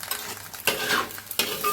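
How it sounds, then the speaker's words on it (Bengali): Sabudana biryani gets stirred in a pan, with a soft background sizzle broken by two sharp scraping strokes of a spoon against the pan, heard close up. "ভালো করে নেড়ে দিই।"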